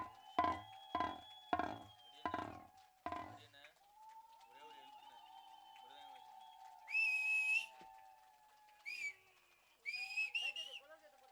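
Men at a village temple festival in Tamil Nadu blow several sharp whistles in short bursts, some long and piercing, with drumming or claps early on and a crowd in the background.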